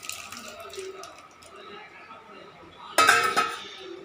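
Cooked field beans (mochai) tipped into a pot of brinjal kuzhambu give a short burst of splashing and clinking about three seconds in, loud against the quieter kitchen background.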